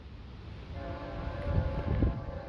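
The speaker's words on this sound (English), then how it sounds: "There's a train." A BNSF double-stack freight train passes a crossing, a low rumble and rolling clatter of wagons building in loudness over wind noise, with a faint horn-like tone.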